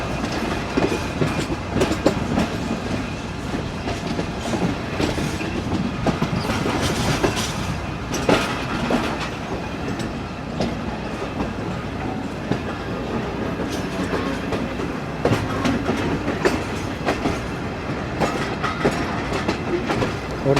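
Passenger train, the Rehman Baba Express, rolling through the Wazirabad railway yard in Pakistan, with a loud continuous rumble and rhythmic clickety-clack of wheels over rail joints throughout.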